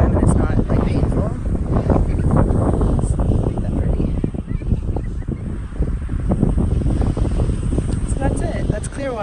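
Steady wind buffets the microphone at Clearwater beach, Florida, with surf washing in beneath it, loud and continuous throughout; speech is also detected.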